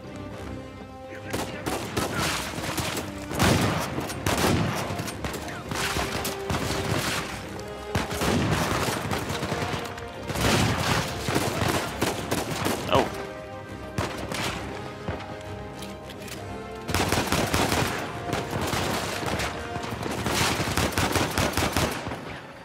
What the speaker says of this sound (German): The sound of the shotgun.